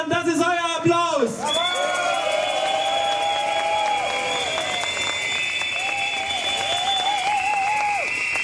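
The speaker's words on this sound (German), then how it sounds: "Das ist euer Applaus." Outdoor crowd at an energy-transition rally on a Berlin square cheers and applauds steadily, with sustained whistle-like or horn-like tones and shouts rising over the dense, loud crowd noise.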